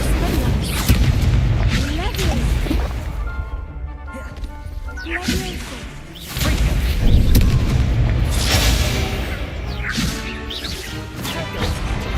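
A fire spell is cast during combat in the video game Hogwarts Legacy, with loud booming, crashing bursts that rise repeatedly over a dense, continuous game soundscape.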